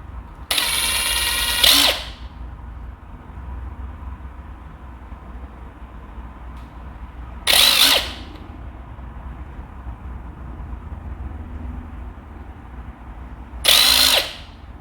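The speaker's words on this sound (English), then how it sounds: "I'll be using my impact driver fitted with the Phillips head tip to help speed along this process" Impact driver with a Phillips head tip driving screws while a KICK Trilogy 55-inch multi game table is assembled, three loud separate bursts of whirring and hammering a few seconds apart with quiet between, no talking.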